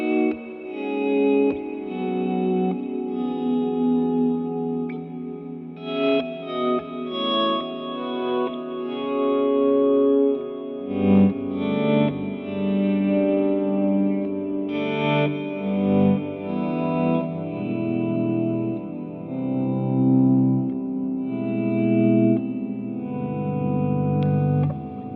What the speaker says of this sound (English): Yeah, that's some glorious reverb.